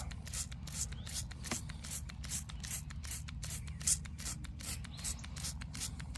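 Weed killer sprayed onto weeds growing up through cracked asphalt in a garden, heard as a steady run of short, rhythmic hissing spray bursts, close and fairly quiet.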